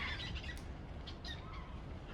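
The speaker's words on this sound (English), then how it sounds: "See all the birds." Seabirds squawk over icy water beside the Grand Pacific Glacier in Glacier Bay, Alaska, with scattered, fairly distant calls above a steady broadband wind-like rush.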